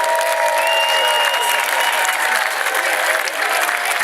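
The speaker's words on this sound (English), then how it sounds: "Would all alumni please stand for a big round of applause?" Sustained applause from a large crowd of reunion alumni standing at a high school homecoming football halftime, dense steady clapping that fills the whole span with faint whistles over it.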